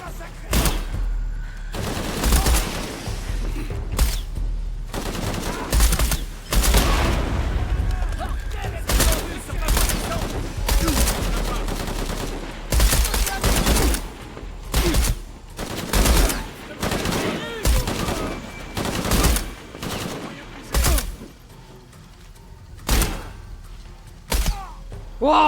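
Heavy gunfire during a firefight in Shadow of the Tomb Raider, with loud bursts of shots and thuds coming in irregular clusters across a long stretch, broken by brief pauses, with voices under and between the shots.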